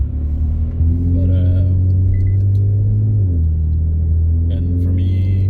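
Car interior on a -15°C day in Terrebonne, with a steady low engine and road rumble that shifts pitch partway through, continuous and close, with faint background chatter at times.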